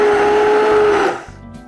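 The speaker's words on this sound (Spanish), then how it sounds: "La batidora lo vamos a triturar todo completamente bien triturado." A loud electric blender purees orange with egg yolk, whirring steadily at high speed with a strong motor whine, then cuts off and winds down toward the end.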